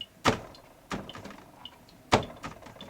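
Cabinet doors shut in a home during cleaning, with three dull, soft knocks spaced unevenly across a few seconds and faint rattles after each one, at moderate volume with no talk.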